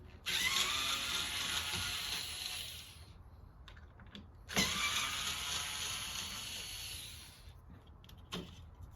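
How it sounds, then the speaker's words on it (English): Power drill backing screws out of the top rail on a 1988–1992 Chevrolet Camaro IROC-Z convertible, with two sustained whirring runs of about three seconds each, close and loud, and a short burst near the end, no talking. "All right, let's pull out the screws."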